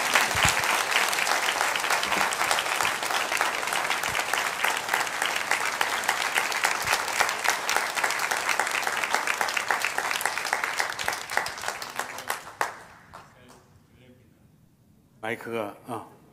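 Church congregation applauding loudly and steadily to welcome a missionary at a Sunday service, dense clapping for about twelve seconds before fading, then a brief burst of voices or music near the end.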